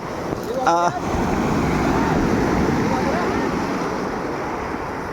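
Big ocean waves roar continuously with a wind-buffeted rush, as if recorded from a boat or the shore, while a brief tonal sound is heard near the start.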